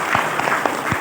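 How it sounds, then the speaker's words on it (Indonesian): Audience applause at a Halal Bi Halal gathering of PCNU in East Jakarta, a dense wash of clapping with a few sharper hand claps standing out, fairly loud and filling the brief moment. "Tepuk tangan untuk kita."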